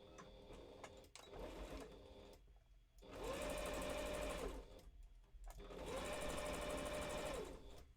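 Sewing machine stitching fabric for a fursuit handpaw: two long, loud runs of rapid mechanical whirring and clatter, each with a rising motor whine, separated by brief pauses.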